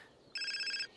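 A telephone rings once in a short electronic trill lasting about half a second, clear against a quiet room.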